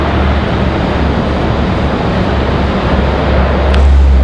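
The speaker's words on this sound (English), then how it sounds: "FedEx ATR 42-300 touching down from ILM." A FedEx ATR 42-300 turboprop touching down at Raleigh Durham airport, a loud, steady broadband roar that swells slightly near the end, with no talking.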